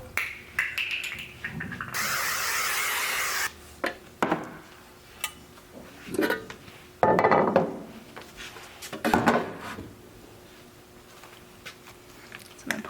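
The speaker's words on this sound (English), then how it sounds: "Pour the broccoli and tomato mix into the casserole dish and mix it up a little bit more" Broccoli and tomato mix being poured and stirred in a greased 9x13 casserole dish, with scraping, knocking and wet shuffling sounds in scattered bursts close by, and one longer rough noisy stretch early on.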